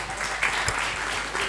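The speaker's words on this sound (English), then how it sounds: "Please carry this with her thunderous applause." At a GST conclave of an accountants' study circle, an audience in a hall gives steady, close applause with dense overlapping claps at an even level.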